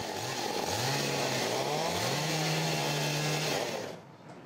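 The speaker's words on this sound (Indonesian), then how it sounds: "berupaya mengevakuasi pohon tumbang dengan menggunakan gergaji mesin" A chainsaw cuts through a fallen tree, its steady high whine rising and falling under load as the engine revs, loud and continuous before it drops away near the end.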